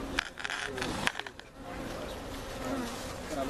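Honeybees buzz around an open hive in a dense, steady drone, close and constant, with faint handling knocks at the start.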